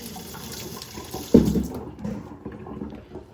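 Kitchen tap water runs briefly while cabbage kimchi ingredients are washed, a soft splashing stream with a sharper burst midway, alone with no talk.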